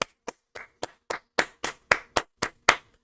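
Eleven sharp, close hand claps at a steady, slightly slowing pace, a single person clapping after a boxing stoppage with no talk between claps.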